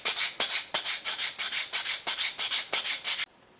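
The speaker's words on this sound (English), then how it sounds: "I'm going to sand it with a sanding block with 150 grit paper" A wooden plane tote from a Stanley No. 5 1/2 jack plane is sanded with 150 grit paper on a sanding block, about fourteen quick even rasping back-and-forth strokes, close and loud, then it stops abruptly.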